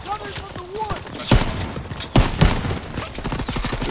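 Gunfire in the Call of Duty: WWII video game, with several sharp loud shots and bursts crackling through a busy battle mix while voices talk over it.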